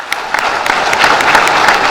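An audience at a police merit awards ceremony breaks into dense, loud applause, many hands clapping together in a continuous roar.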